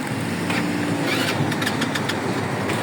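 A motorcycle scooter engine just after an oil change, running steadily at a loud, even idle with a constant low rumble and no voices.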